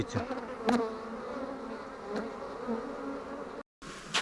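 Honeybees hum steadily around a hive on the second box of a beehive, a close, dense buzz with individual bees zipping past the listener, briefly cut off near the end.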